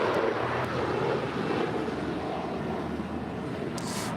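A jet airliner roars steadily at LAX, its broadband rumble holding constant throughout with some wind buffeting on the microphone and no voices.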